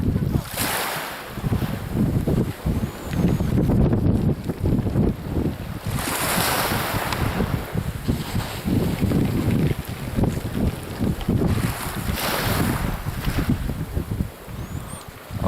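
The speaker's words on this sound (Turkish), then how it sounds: "arkadan da çok sert rüzgar esiyor denize doğru" Strong gusty wind blowing toward the sea during shore fishing roars and buffets the microphone continuously, with rushing surf-like noise surging and easing throughout.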